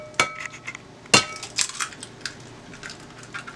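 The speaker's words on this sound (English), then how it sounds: "I'm just going to crack my eggs in there" Eggs are cracked against a bowl in a kitchen: a few sharp clinks and taps at irregular intervals, close and fairly quiet, with soft handling noises between.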